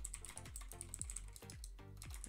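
Someone types on a computer keyboard while writing code in Roblox Studio, a quick, quiet patter of key clicks with no voices.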